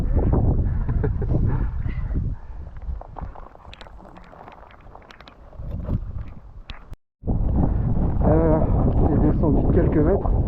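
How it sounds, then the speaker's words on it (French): Gusts of wind buffet the microphone in rough bursts on the Mondarrain mountain near Itxassou, with a person talking throughout and a brief cutout near the end. "Il y a toujours le vent"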